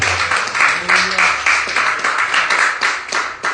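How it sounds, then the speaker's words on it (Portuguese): Rhythmic clapping from a church congregation during a praise and worship service, steady and fairly loud, with a voice speaking over it. "Aplaude glorificando."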